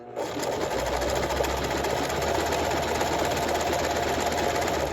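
A sewing machine stitches a buttonhole in fabric with a steady, fast, continuous mechanical whir. The motor hum runs evenly for the whole stretch, close by and with no talking.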